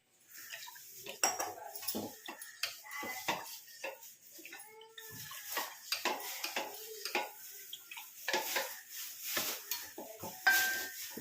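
Roasted gram paste being stirred into water for sambar, with a spoon clinking and scraping against a metal vessel in quick irregular bursts alongside light splashing, close and fairly faint.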